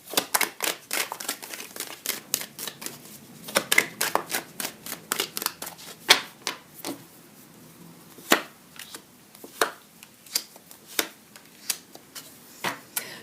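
A deck of cards is shuffled for a card reading, with repeated crisp riffles and soft slaps in an uneven rhythm, close and clear with no talking.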